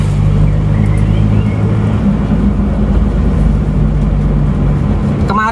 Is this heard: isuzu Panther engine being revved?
yes